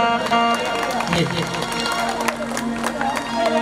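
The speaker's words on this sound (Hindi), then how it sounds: "एक बार थोड़ी ताली बजा दो" Audience at a Mata Rani jagrata claps and cheers loudly, a dense continuous roll of applause mixed with crowd noise and voices for a few seconds.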